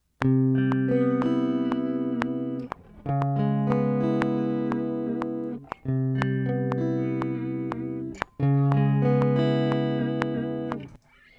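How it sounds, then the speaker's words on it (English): Dry, unprocessed electric guitar played in 4/4 against a 120 BPM metronome, four sustained chord phrases each cut by a short gap, with faint regular clicks throughout and no voices. "I'm going to record with a metronome at 120, 4/4, dry guitar."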